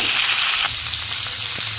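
Vegetables such as cauliflower, broad beans and eggplant fry in hot oil with a loud, steady sizzle, punctuated by a few soft stirring clinks and scrapes.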